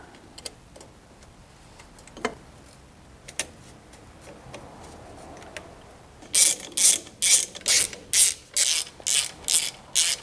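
A ratchet bolts a part into a Mini Cooper 1.8T swap, beginning with a few scattered faint clicks and knocks, then a burst of about ten rapid, evenly spaced ratcheting strokes close by, no voices.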